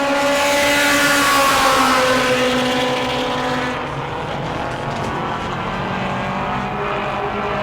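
A mod mini race car on a qualifying lap at New Smyrna roars loudly at high revs, then the engine note drops and recedes as the car moves on down the track.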